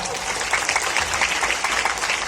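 Applause from a seminar audience in a hall, a continuous wash of many hands clapping at even loudness, with some voices mixed in.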